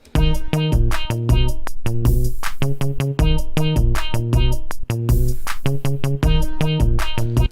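A bright lead synth line from an electronic track made for the Schwifty emote in Roblox Mad City Chapter 2, playing loud, punchy repeating notes in a steady rhythmic pattern with no voices.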